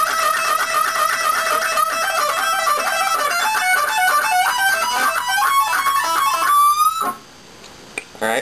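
An electric guitar plays a lead passage from a solo, a fast run of sustained bent notes in unison that rise and sustain before cutting off abruptly near the end.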